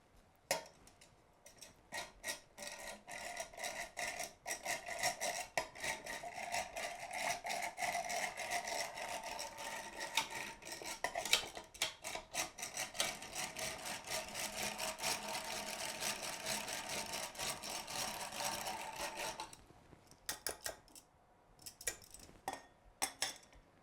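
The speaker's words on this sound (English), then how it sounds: "I'm going to give it a whisk to make sure it's mixed through" A mixture is whisked in a bowl, making rapid, steady clicking strokes against the sides that run for about twenty seconds and then stop, with quiet gaps at the start and end.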